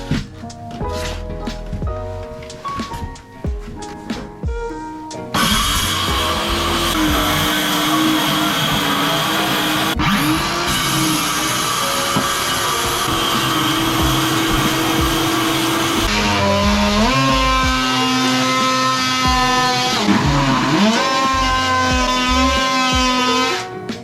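A loud power saw whines through a plywood bathroom floor for a long stretch, its pitch dipping and rising as the cut loads and eases, close and continuous.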